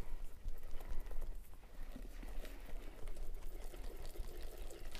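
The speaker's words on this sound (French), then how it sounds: "On remue tout ça." Pineapple tart mixture stirred in a bowl, giving soft, continuous wet sloshing and spoon scraping at close range with an uneven churning rhythm and no talk.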